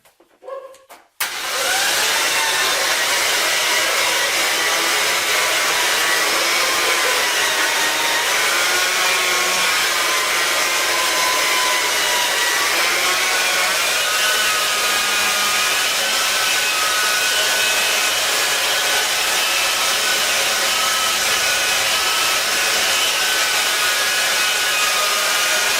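A machine polisher runs steadily on the bodywork of a Ford EcoSport in a body and paint shop, a loud continuous whirring drone that starts abruptly and holds without pause.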